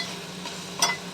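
Mashed tomato sautéing in a pan for a Marathi-style tomato chutney, a continuous close hiss of frying with a brief scrape of a spoon near the end, no voices.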